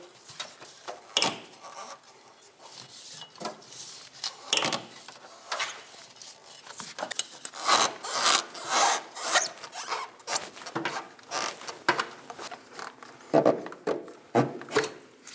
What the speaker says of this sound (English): We're going to push our fuel filler neck into the hose farther until we're able to pull it down and clear where it mounts to.